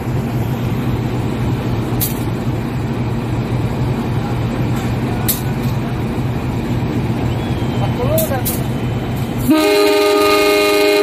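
A local economy passenger train pulled by an older locomotive at Kapas station, with a steady engine rumble and brief squeals as it prepares to depart, then a loud, sustained horn near the end.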